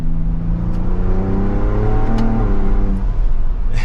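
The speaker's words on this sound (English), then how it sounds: "you can hear the turbos too under boost" A 2023 Ford Bronco Raptor's twin-turbo engine pulling hard under boost while driving on the street, a loud steady drone with rising engine tones and faint turbo whir, close and continuous without speech.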